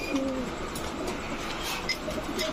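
Soft coos from a female pigeon sound against a constant background hum, low and murmuring, fairly faint.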